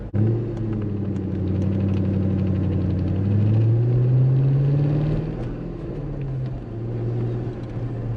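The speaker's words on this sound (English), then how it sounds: "we're gonna go ahead and take this car for just a quick drive in the parking lot" A 1999 Chevrolet C5 Corvette coupe drives slowly through a parking lot, its engine a steady low rumble with a brief rise in pitch midway, heard from inside the car and alone.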